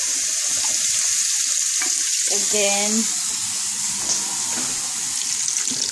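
Tap water runs steadily into an empty sauce can while cooking an Italian vegetable stew, a continuous hiss and splash near the sink, with a brief spoken phrase over it.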